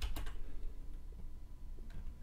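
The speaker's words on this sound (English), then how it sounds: "So let's type in Nikto" Computer keyboard keys clicked while typing a command, a few quick taps near the start and another small cluster near the end, with quiet low hum and no talking in between.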